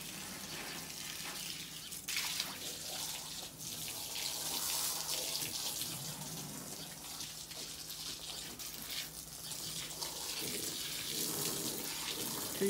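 Water runs steadily from a household tap into a sink, a close, continuous hiss and splash lasting throughout without any talk.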